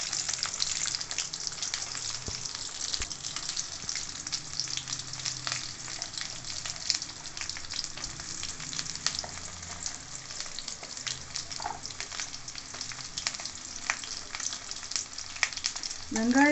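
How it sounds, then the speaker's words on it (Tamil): Onion and tomato sizzle steadily in hot oil in a pan while cooking kara chutney, a continuous close frying crackle with occasional stirring scrapes and no talking. "வெங்காயத்தையும் தக்காளியும் ஒன்றா போட்டு வதக்குங்க."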